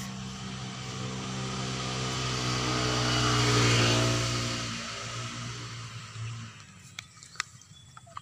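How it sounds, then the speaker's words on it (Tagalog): A motorcycle passes by outdoors, its engine hum rising steadily to a loud peak as it draws near and then fading away, followed by a few sharp clicks and knocks close by. "Madaan ang motor"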